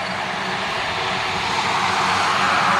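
Beechcraft King Air airplane flying past, a steady broadband engine roar that swells slightly over a few seconds without talk.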